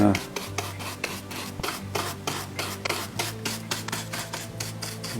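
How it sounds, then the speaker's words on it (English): Brisk scrubbing of chalk weathering off a model train, quick rhythmic rasping strokes repeating close up, with no talk over them. "by scrubbing it more, I'm taking more of the chalk off"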